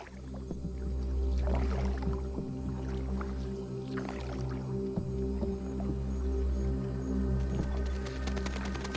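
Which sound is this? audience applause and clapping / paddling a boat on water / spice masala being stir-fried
paddling a boat on water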